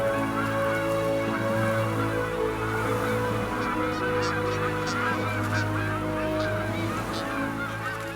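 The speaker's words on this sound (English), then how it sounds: "Millions of migratory birds leave Hudson Bay in autumn." A flock of migratory geese honks continuously at Hudson Bay in autumn, many overlapping calls forming a loud, busy clamour that carries on throughout.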